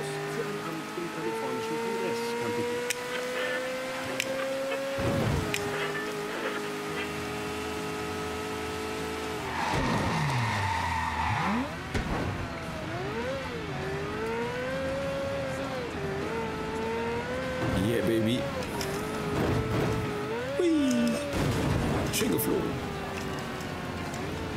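A car driving in the video game Mafia 3, its engine droning and shifting pitch as it accelerates and slows, steady throughout under someone talking.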